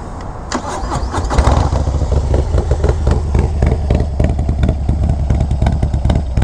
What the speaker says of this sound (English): An amazing exhaust. I'll turn it on for you right now so you guys can hear it.